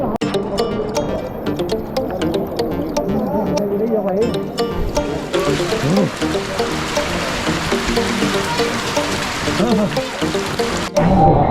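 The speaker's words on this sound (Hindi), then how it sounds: "ऊपर से देखो बारिश हो रही है देखो" Rain falls on the pilgrimage trail to Kedarnath Dham, heard as a broad, steady outdoor hiss that thickens about halfway through, with a busy crowd of voices and footsteps mixed in throughout.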